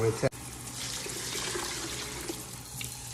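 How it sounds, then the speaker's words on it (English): Tap water streaming steadily into a 4-cup Pyrex measuring dish, a continuous hissing rush after a brief clatter at the start, close by. "So we're gonna put 12 cups of water."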